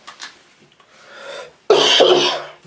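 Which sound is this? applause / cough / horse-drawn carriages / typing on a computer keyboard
cough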